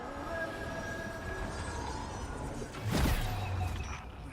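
A video game train runs steadily throughout, a continuous rolling rumble with a brief louder surge of wheel noise about two-thirds through, no voices.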